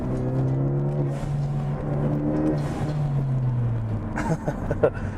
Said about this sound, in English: hopefully you can hear that blow-off valve